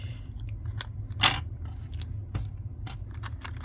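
Scissors snip paper for a handmade shaker fold card, with one crisp cut standing out among quieter paper rustles and small taps in a calm room.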